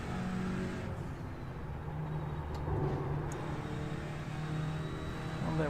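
Audi RS3 race car engine in iRacing at Laguna Seca, a steady loud drone with engine pitch shifting as it comes down through the gears, continuous for several seconds with no talk.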